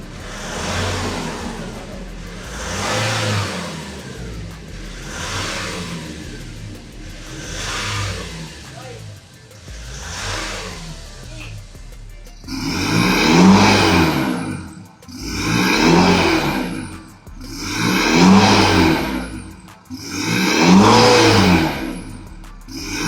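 A Nissan Navara pickup fitted with a full exhaust, a Spitfire Thunder muffler and dual black Borla tips gives repeated engine revs, each swelling then falling away, and the later bursts sound deeper and louder.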